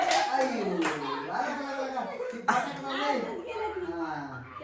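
Family members clap together at a birthday celebration, a burst of hand claps mixed with children's voices, chuckles and lively chatter throughout.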